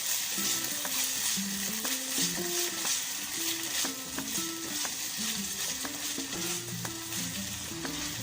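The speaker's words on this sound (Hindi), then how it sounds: "इसे अच्छी तरह मिक्स करेंगे। इसे 2 से 3 मिनट के लिए हम पकाएंगे।" Homemade pizza sauce cooks in a pan with a steady, close sizzle that runs throughout, while soft melodic music plays alongside.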